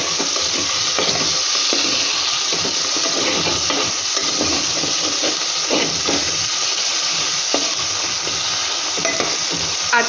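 Chopped tomatoes fry with already-fried onions for chicken Afghani, producing a close, continuous hissing sizzle broken by repeated spatula stirring and scraping against the pan.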